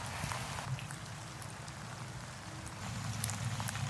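Rain falls steadily at a carp fishing spot in the French Alps, a dense soft patter with scattered sharper drops and a low rumble beneath, continuous and even, with no voices.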